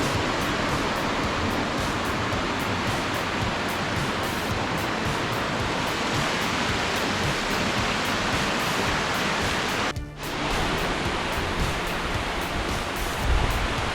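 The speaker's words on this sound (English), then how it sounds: "it's a beautiful roaring waterfall and obviously a very popular spot." A roaring waterfall on the Fe'arume (Three Waterfalls) hike in Tahiti, a major cascade falling into a very large pool, gives a loud, steady broadband rush that runs unbroken through the whole stretch, with only a brief dip near the end.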